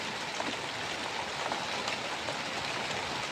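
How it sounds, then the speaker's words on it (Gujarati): Light rain falling steadily, a soft continuous hiss of drops without breaks, faint and even, with no voices. "ધીમો ધીમો વરસાદ વરસે છે।"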